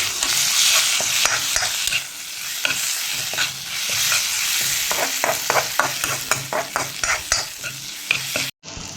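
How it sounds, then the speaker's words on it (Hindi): Chopped onions and red tomatoes frying in a pan for an egg curry, a steady bright sizzle broken by repeated stirring and scraping strokes, close and continuous with no talking. "टमाटर को भी थोड़ा सा साथ में कर लिया जाए फ्राई।"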